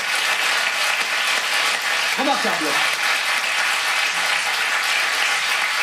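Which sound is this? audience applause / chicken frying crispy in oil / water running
audience applause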